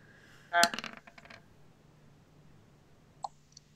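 Dice rattle and clatter onto a tabletop during a Blades in the Dark roleplaying session, a sharp burst of close tumbling clicks that settles within a second, with one more faint tap a few seconds later.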